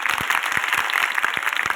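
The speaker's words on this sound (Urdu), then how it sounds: "تالیاں کی آواز دسے" Audience applause at a church preaching event, dense continuous clapping from many hands with a few sharper nearby claps standing out, steady and fairly loud throughout without any talk.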